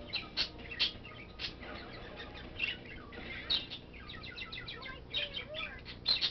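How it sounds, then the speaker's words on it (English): A chicken in the video game Spyro 3 clucks in quick repeated bursts over game music, the calls irregular and moderately close. "Where'd that funky chicken go?"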